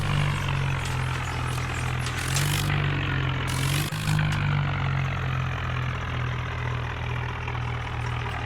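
Swaraj tractor engine running while sowing wheat in a field, a loud steady diesel drone with deep low rumble and a couple of brief louder bursts.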